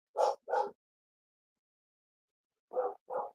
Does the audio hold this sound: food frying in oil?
no